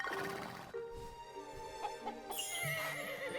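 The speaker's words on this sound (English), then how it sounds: "Brushing horses." A horse being brushed in Story of Seasons: Grand Bazaar lets out a clear, near whinny with a few soft game sound effects around it.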